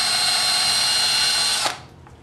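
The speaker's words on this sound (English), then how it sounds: "now I'm gonna drill out my last pilot hole here." A power drill bores a pilot hole in wood for a chess board build, one loud, close, steady high whine that runs for about a second and a half before stopping abruptly and winding down.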